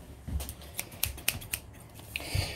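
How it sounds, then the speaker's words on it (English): Scissors snip through plastic packaging on an iPod Nano 2nd generation during a repair, with a series of sharp, close, quiet cuts in an uneven rhythm and no talking. "So we're just gonna cut it right along the top, just about that far."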